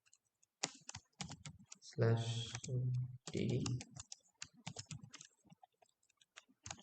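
Someone types a password on a computer keyboard, with close, crisp key clicks in quick bursts and someone briefly speaking over the typing.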